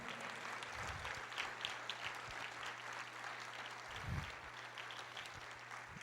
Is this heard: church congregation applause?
yes